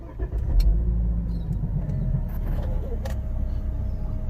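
A 2014 Volvo V60 T6 R-Design car starting up, with a low engine rumble rising and settling into a steady idle, heard close from inside the cabin.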